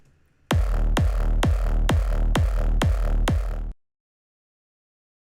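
Seven deep, punchy kick drum hits in a steady even rhythm, loud and dry, then silence.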